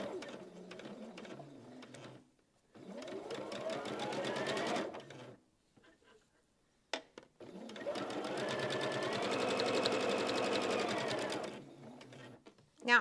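Seaming a baby quilt, a sewing machine hums through two long stitching runs separated by a pause, with a speeding whine and brief quiet gaps between.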